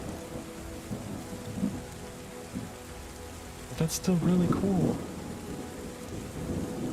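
Rain falls steadily and thunder rumbles in the video game Terra Nil, with one sharp crack midway followed by a deeper roll. A voice talks briefly over the downpour.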